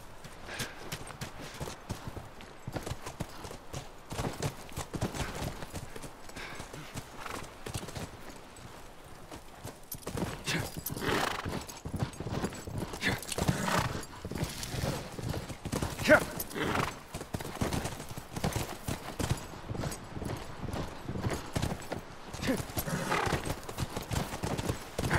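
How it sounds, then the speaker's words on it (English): Horse hooves clip-clop steadily through a snowy-dam area in the video game The Last of Us, a repeating walking rhythm at moderate distance under ambient game sound, with a horse's whinny and some speech mixed in. "Come on, back to the horses."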